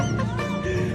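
A chicken clucks close by in a short run of rapid, throaty calls that rise and fall over a steady low background hum.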